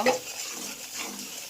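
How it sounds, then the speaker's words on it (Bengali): Coriander and cumin powder with salt are stirred and fried in a pan for a bottle gourd and hilsa curry, a quiet continuous scraping and faint sizzle after a brief clink at the start. "এবার মশলাটা ভালো করে কষিয়ে নিব"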